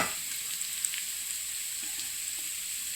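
Sesame-coated vadi shallow fry in oil with a steady, fairly quiet high hiss of sizzling and a few faint pops throughout.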